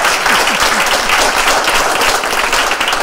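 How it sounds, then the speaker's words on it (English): A crowd at an outdoor anti-gun-violence rally stop in Peekskill claps steadily, a loud, close, continuous patter of many hands filling the whole stretch, with faint voices underneath. "You can clap for that, for sure."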